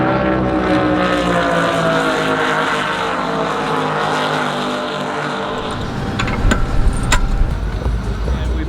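A spec class offshore racing powerboat roars steadily at the Offshore World Championships in Key West, its rebuilt engine droning loud and close for several seconds, with a few sharp mechanical cracks toward the end.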